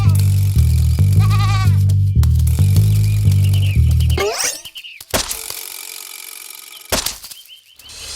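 Sheep bleat in a loud, repeated run of wavering cries in a children's cartoon story. A few sharp thumps, whooshes and flapping sounds follow in a quieter stretch.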